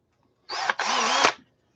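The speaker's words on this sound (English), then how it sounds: "it's a pretty strong drill" A cordless power drill whirs in a short, close burst of about a second. It dips briefly near the start, then spins steadily and stops, with no talk.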